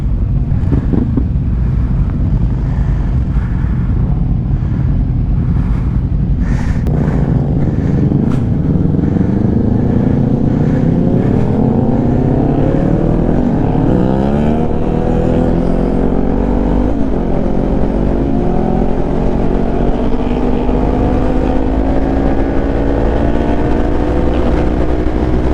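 Kawasaki Z400 and BMW S1000 RR motorcycles riding together on the road, a constant loud engine drone with rising revs and repeated gear changes, heavy wind noise throughout.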